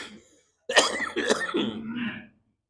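A person with a lingering cough coughs during an evening religious study session, giving a close, harsh burst of several rough coughs and throat clearing over about a second and a half, alone with no talk.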